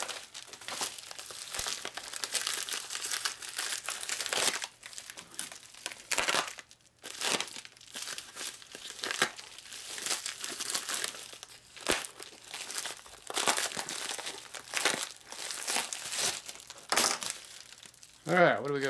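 A dull knife rips open a package in a workshop, making repeated crinkling, tearing and crunching bursts of varying loudness close by, while someone talks over it.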